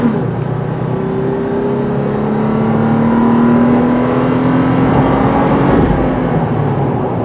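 A 2019 Toyota 4Runner TRD Pro's six-cylinder engine accelerates with a loud, steady drone that rises gradually in pitch, heard close up from inside the SUV.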